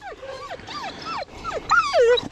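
A friendly female dog whimpers close up in a series of about six high, bending whines and yips that grow louder toward the end.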